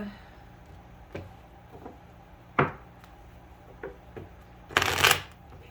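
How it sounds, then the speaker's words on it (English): Playing cards are shuffled in a few scattered taps and flicks, then a quick riffling burst near the end, close and quiet. "Let me shuffle real quick."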